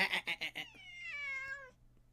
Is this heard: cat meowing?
yes